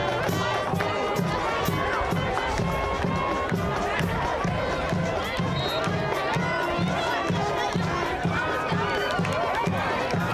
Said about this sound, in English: The freshman Simmons electrifying the BC crowd as he takes it the distance.